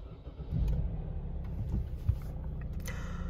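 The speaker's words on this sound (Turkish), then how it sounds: "Aracımızı çalıştıralım." Opel Insignia 1.6 CDTI diesel engine starting after heavy maintenance in a workshop, a brief crank rising into a steady low idle rumble that holds at moderate level to the end.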